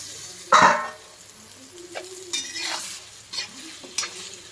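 Ingredients for gooseberry pickle sauté in a pan, close and sizzling, while a utensil scrapes and stirs in several distinct strokes over a steady frying hiss.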